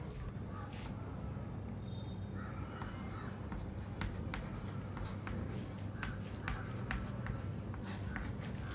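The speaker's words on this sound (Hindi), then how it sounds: "अब इसको मिटा के ये वाला हेडिंग हम लिख देते हैं।" A marker or chalk writes a heading on a classroom board during a lesson, giving faint, scattered short strokes and taps over a steady background hum.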